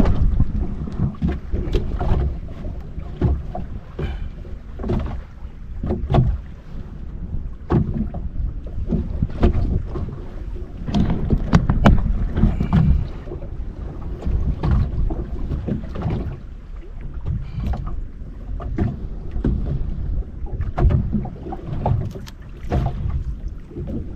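Continuous gusty wind buffeting at a fishing spot, with low rumbling and irregular bursts, fairly loud throughout and no voices.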